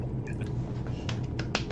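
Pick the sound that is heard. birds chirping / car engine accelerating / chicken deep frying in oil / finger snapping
finger snapping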